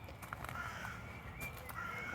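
A crow caws a few times in a rainy park, the calls moderately distant over a steady bed of outdoor ambience.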